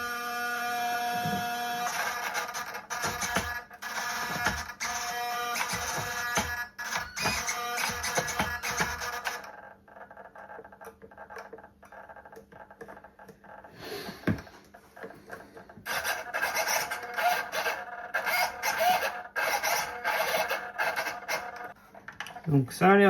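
Steering servos on a Bruder Claas Xerion RC tractor conversion being tested give off bursts of buzzing, whirring motor whine across the first half, a quieter stretch, then more repeated whirring toward the end, recorded close up.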